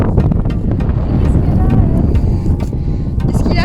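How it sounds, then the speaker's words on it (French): Gusty wind buffets the microphone on a sunny walk outdoors, a steady loud rumble running throughout with faint voices and small sounds underneath. "On est sur une petite balade au soleil, dans le vent."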